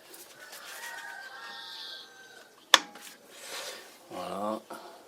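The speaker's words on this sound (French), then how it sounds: "chez moi il y a des coqs, il y a des oiseaux" Birds and roosters outdoors near a car brake job, soft bird calls with a short metallic clink and a closer crow-like call, faint and intermittent.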